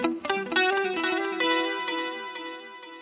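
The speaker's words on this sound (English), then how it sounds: "Gonna bring in some digital delay." Electric guitar notes run through a digital delay, picked phrases trailing into repeating echoes that fade out, alongside a chorus pedal comparison of a Boss CE-2 and Ibanez SC10, played alone without speech.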